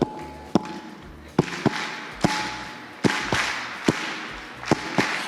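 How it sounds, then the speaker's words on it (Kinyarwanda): A live audience claps in a traditional Kinyarwanda rhythm, with sharp, loud claps landing in a syncopated pattern, some spaced apart and some in quick pairs, over a low steady hum and a faint held tone. "Hari amashyi nkunda kwaka abantu ya Kinyarwanda"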